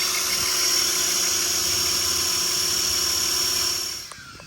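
A Tron Advance motor running steadily at 2200 RPM gives off a continuous high-pitched whine with a constant hum beneath, close and unchanging, before winding down near the end.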